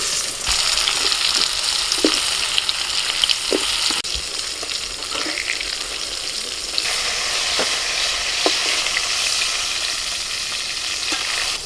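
Pointed gourd frying in oil in a pan, a loud continuous sizzle and crackle with a few sharp spatula taps and scrapes spaced through it.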